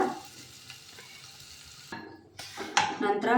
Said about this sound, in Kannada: ಸ್ವಲ್ಪ ಮೆಂತ್ಯ ಸೊಪ್ಪು ಕಟ್ ಮಾಡಿರೋದು ಹಾಕ್ಕೊಂಡು ಅದನ್ನು ಚೆನ್ನಾಗಿ ಫ್ರೈ ಮಾಡ್ತಾಯಿದ್ದೀನಿ